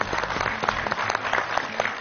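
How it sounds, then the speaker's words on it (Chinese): An audience applauds a guest on a Chinese television food show comparing the old towns of Tengchong and Mdina, Malta, a short burst of dense, moderately loud clapping with no voices over it. "咱们把掌声送给克里夫先生"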